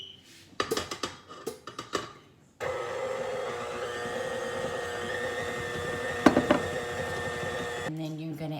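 An electric mixer creams cookie dough for cowboy cookies made with pecans, chocolate chips and coconut. A steady whirring motor hum runs for about five seconds with a brief clatter partway through, after a few clinks and some talking.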